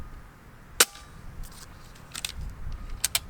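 A modded Umarex Notos air rifle fires a 21.9-grain AEA pellet, one sharp snappy crack followed by faint clicks and handling noises and a couple of light metallic ticks.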